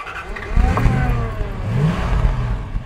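A 1973 Jensen Interceptor MkII with its big 440 V8 cranks and catches, then settles into a loud, deep, rumbling idle with a brief rev, heard close up.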